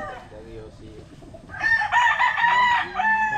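A gamefowl rooster on a farm lets out one loud, close crow after a second of quieter clucking and background noise.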